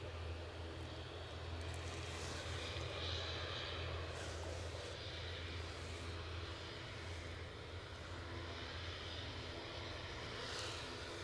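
Ryanair airliner at Edinburgh Airport, a fairly quiet, steady jet engine drone with a low hum, heard at a distance and unchanging throughout, with no talk over it.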